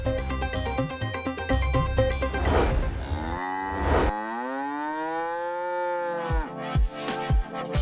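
Buffalo lowing from pens kept in a residential city area, a long drawn-out moo with a steady rising tone, preceded by a busy, layered animal din and followed by a few short thumps, fairly close and loud without speech.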